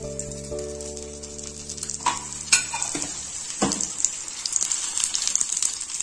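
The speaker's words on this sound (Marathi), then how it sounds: "बंद केलेली बाजू आधी शेकायची म्हणजे तो पूर्ण पॅक होतो. छान गोल्डन क्रिस्पी असा भाजून घ्यायचा आहे." Paneer frankie roll toasting in ghee on a pan, sealed side down to turn golden and crisp, giving a steady close sizzle with a few stirring scrapes and taps.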